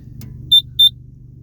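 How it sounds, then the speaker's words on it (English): Two short, high electronic beeps in quick succession from a Bobcat G-Series loader's maintenance clock signalling 250-hour service due, clean and piercing, over a faint low hum of idling machinery. "it's beeping, says 250 hour service is due"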